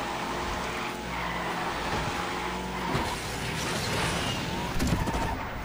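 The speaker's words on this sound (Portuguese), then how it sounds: "Deixa eu pegar mais um pouco de velocidade aqui." In Asphalt 9 Legends, a racing car roars steadily as it gains speed, a dense continuous engine and road rush with brief skid-like flares near the end.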